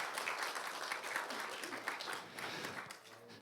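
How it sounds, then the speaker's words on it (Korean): Audience applause at a Social Workers' Day ceremony, a moderate wash of many hands clapping steadily and then tapering slightly toward the end, heard from a distance in a hall. "더 큰 박수 부탁드리도록 하겠습니다."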